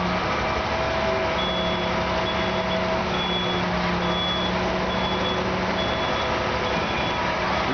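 A concrete truck reverses at a construction site, its backup alarm beeping steadily in a regular pulse over a constant diesel engine drone, fairly close and with no voices.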